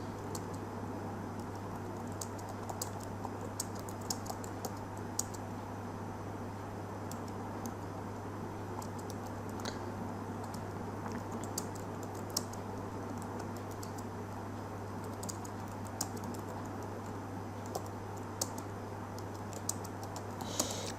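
Steady stream of computer keyboard keystrokes as Urdu poetry is typed in phonetic layout, irregular close clicks and taps over a constant low electrical hum, continuing for about twenty seconds with no talking.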